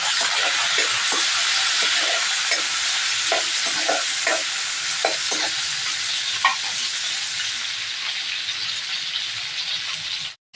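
A piece of tomato sautéing in a pan with garlic and onion gives a steady, loud sizzle throughout, broken by the light scrape and clack of stirring, until the sound cuts off abruptly at the end.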